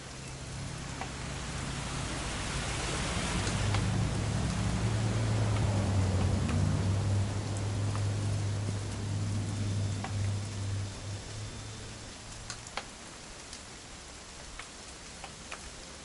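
Rain falls in the video game What Remains of Edith Finch as a soft, steady wash of drops. A low rumbling swell rises under it and fades after about twelve seconds, leaving sparse ticking drops.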